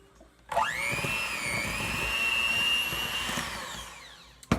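An electric mixer creams butter with white and light brown sugar for cookie dough, starting abruptly with a rising whine, running steadily and loudly for several seconds, then winding down and cutting off with a clatter.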